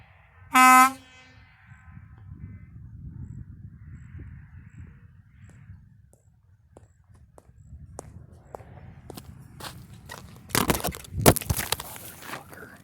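A model train horn gives one short, loud, tonal honk near the start, followed by faint rustling and a few sharp bursts of noise toward the end.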